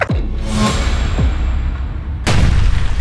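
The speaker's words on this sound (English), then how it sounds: "They're shooting damn grenades." Grenade explosions in Fallout: New Vegas multiplayer: loud, dense blasts with whooshing projectile sweeps, a sustained rumble, and a second sharp boom near the end, all close and with no talk.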